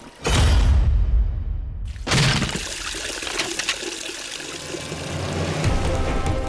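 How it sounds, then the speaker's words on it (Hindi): Water rushes and pours into a sinking wooden boat, a loud gushing surge at the start, a brief gap, then continuous splashing flow that holds steady to the end. "ये पानी नहीं रुकने वाला। निश्चित है कि नौका अब डूब जाएगी।"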